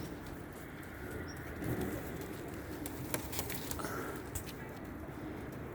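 Pigeons coo softly nearby with a few wing flaps and light pattering, over a steady low background hum, in Keşan.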